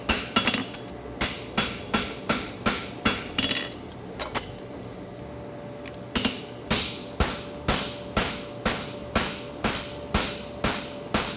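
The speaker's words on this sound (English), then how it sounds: "Then back to the flat of the hammer to go around the corner." A farrier hammers a lateral bar horseshoe in steady, ringing metallic strikes, about two per second, close and clear, with a brief pause midway before the blows resume.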